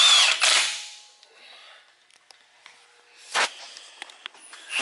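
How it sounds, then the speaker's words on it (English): An impact wrench snugging up the bolts on an upgraded Rubicon Express front drive shaft on a Jeep JK, loud rattling bursts at the start and again midway, with faint clinks and handling noises between. "We're putting these on with the impact, them up, just snug it up"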